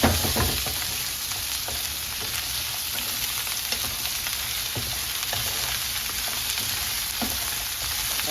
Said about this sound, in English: instead this is sauteed potatoes